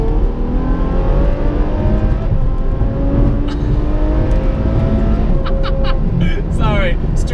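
A Ferrari F12 accelerating hard to overtake on a straight road in England, its engine note climbing steadily in pitch over several seconds, loud and close inside the car, with people talking over it.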